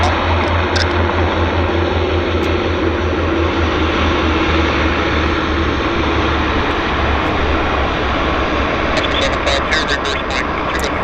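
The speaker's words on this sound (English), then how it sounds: "Q400 on approach" A Q400 turboprop airliner on approach to Vancouver airport drones steadily and loudly throughout, a continuous low engine rumble with broadband roar, with faint higher ticks near the end.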